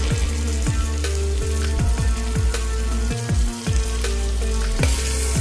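Masala chicken sautés in a pan, with steady, loud, close sizzling and crackling broken by regular scraping stirs, roughly two each second, and no talking.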